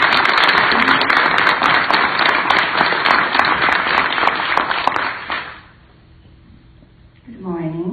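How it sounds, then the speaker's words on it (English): Audience at a community discussion event gives loud applause with sharp claps, stopping abruptly after about five seconds, followed by a pause and then a speaking voice. "Can you please get a loud round of applause for her?"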